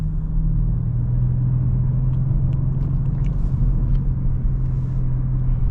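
A 600 hp Audi RS6 V8 twin-turbo wide-body wagon accelerates from inside the cabin, a steady heavy engine rumble holding under light road noise, with no talk.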